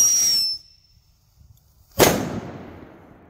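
A 200g DC fireworks cake fires a whistling thunder shot: a shrill rising whistle fades out, then after a pause a sharp, loud bang cracks and rumbles away into a decaying tail.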